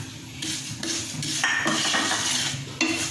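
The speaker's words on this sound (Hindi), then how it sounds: "ये मैं सेवियां डालने लगे हैं" Vermicelli dropped into hot oil in a pan for zarda sweet, a busy clattering and sizzling wash with utensil clinks as it is stirred, close and steady without speech.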